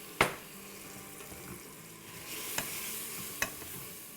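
Spices frying in a pot for dal makhani, with kasuri methi, salt and turmeric, as a spoonful of water is added: soft sizzling and stirring with a few sharp spoon clinks against the pot, close and quiet.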